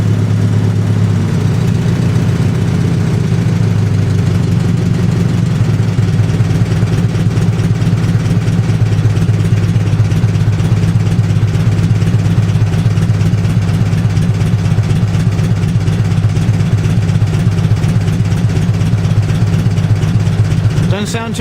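A 1950 Farmall H tractor engine idles steadily, a loud, close, even low throb that runs unbroken throughout, with a slight change in tone partway through.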